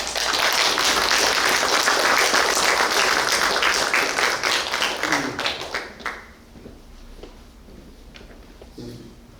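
A church congregation applauds during a Sunday service, sustained loud clapping that fades out after several seconds into a quiet room.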